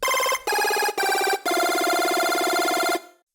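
A tech house synth lead preset that imitates a cell phone ringtone: three short trilling bursts and then one longer warbling ring, loud and close, with nothing else under it.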